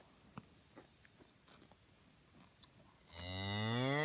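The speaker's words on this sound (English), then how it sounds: "Mama Skunk there is out of a brown Swiss cow, milk cow, and a registered black Angus bull" A brown Swiss and black Angus cross cow gives a loud, close moo that swells up after a few seconds of quiet farmyard ambience with scattered footsteps and faint insects.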